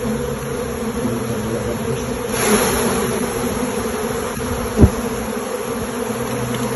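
Honey bees buzz steadily at close range on a bee farm, a dense continuous drone with one brief louder pass, and no voices.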